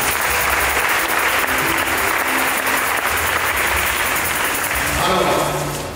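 Guests at a religious wedding ceremony break into sustained applause, a continuous dense clapping that holds steady and swells slightly before tapering, with a voice speaking over it.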